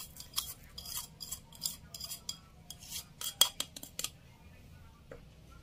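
A utensil stirs and mashes tempeh with salt, seasoning and sugar in a bowl, giving quiet irregular clinks and scrapes of metal against dish in short, uneven bursts.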